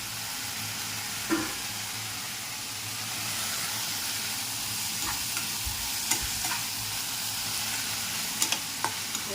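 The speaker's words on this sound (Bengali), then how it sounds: "ভালো করে নেড়ে নেব।" Banana blossom with garam masala and salt fries in a pan, a constant close sizzle and hiss broken by occasional utensil scrapes and taps as it is stirred, with no talking.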